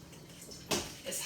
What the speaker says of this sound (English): I'm just going to gently pull this up out of the water.